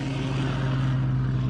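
A Spitfire aircraft flies during landing practice, its piston engine and propeller giving a loud, steady droning roar that fills the short moment without pause.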